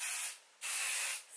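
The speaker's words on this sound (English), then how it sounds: "I'm just going to spray it with some hairspray" Two short hissing bursts from a hairspray can sprayed onto hair close by, each lasting about half a second with a brief pause between them.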